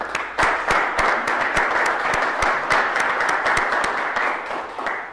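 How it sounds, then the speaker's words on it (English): An audience at an evening renovation-cost meetup applauds the beginners in attendance, a steady, dense round of clapping that holds at an even level throughout with no voices over it. "let's all give a little round of applause for all the beginners who are here tonight"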